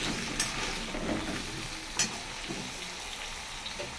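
New potatoes fry in a pan with a steady, close sizzle and a few sharp stirring scrapes, alone with no voices.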